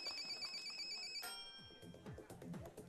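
A telephone rings on a TV game show as a viewer's call is connected. The bright electronic ringtone sounds steadily at first, then cuts off and gives way to faint studio voices.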